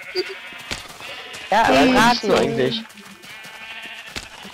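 Sheep in the Minecraft video game bleat loudly in a wavering, repeated cry lasting about a second, under and between casual German conversation from players.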